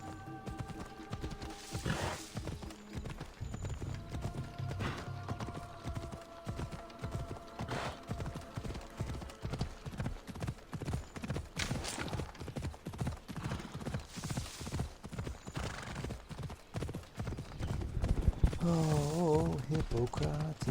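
Horse hooves clop in a fast, steady galloping rhythm in Assassin's Creed Odyssey, fairly close, with a short neigh near the end and occasional voices in the background.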